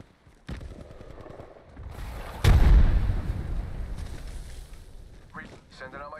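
A frag grenade explodes in Apex Legends gameplay, one loud booming blast with a rumbling tail that fades over a few seconds, set among other game noise and talk.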